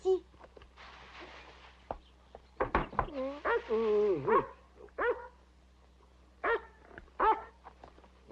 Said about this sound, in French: Ah oui, des aboiements de chien.